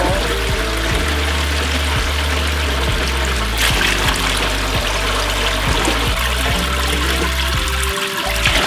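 Water runs steadily out of a container of fruit syrup that has been aging for three years at a Buddhist temple, a continuous trickle that is loud and close, with a brief gurgle near the end.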